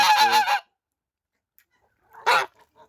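Two short bursts of goose honking, nasal, close and fairly loud, separated by a quiet pause.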